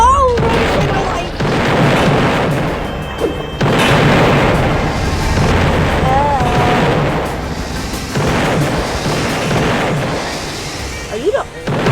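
Flashbang explosions in a video game go off as a series of loud, booming blasts a few seconds apart, each followed by a ringing tail, with a player talking over them.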